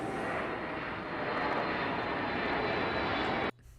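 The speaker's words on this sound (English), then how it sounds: "This flight's about to take off and we're going to be on it." Engines of a Boeing 707 surveillance aircraft drone before takeoff, a loud, steady broadband roar heard from on board that holds evenly and then cuts off abruptly near the end.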